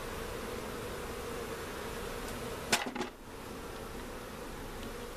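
A tiny honeybee swarm fans its wings, giving a faint, steady, far-off hum, with one brief light clink near the middle.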